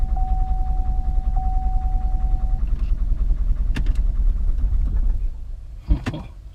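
A diesel Chevy Cruze idles with a close, low, steady rumble and a faint whine. The rumble fades out near the end, followed by a couple of short knocks and clatters.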